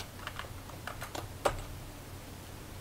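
Typing on a computer keyboard: a short, close burst of light key clicks ending with one firmer keystroke, then quiet room tone.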